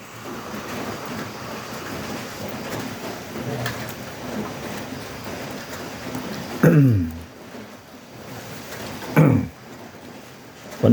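Steady rain pours down outdoors in a dense, even hiss that fills the whole clip, with a few louder splashing or rumbling bursts rising briefly over it near the end.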